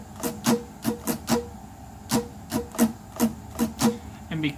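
Palm-muted guitar strumming in a slow pattern, a string of short dry percussive chord scratches with little ring, close and fairly quiet, alone.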